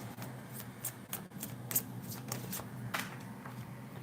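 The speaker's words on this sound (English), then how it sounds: "I just love the way these cards shuffle and look like the card stock." Tarot cards with thick card stock are shuffled by hand, producing soft, quick riffling and snapping flicks in irregular bursts, quiet and close.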